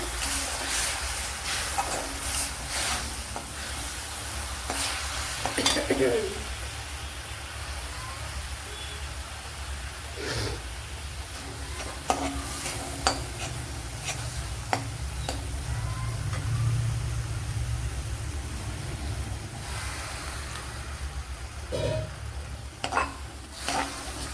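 Cauliflower frying in a pan for a dry varattiyathu after a splash of water goes in, giving a steady low sizzle with occasional stirring scrapes and clicks, close and moderately quiet throughout.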